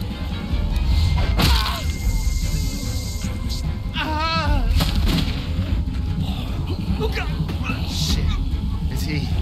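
Gunfire in The Walking Dead video game, heavy booming shots and thuds under urgent shouted dialogue, with loud impacts spread across the scene amid other game noise.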